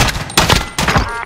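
Video game gunfire: three loud, close bursts of heavy shots within about a second.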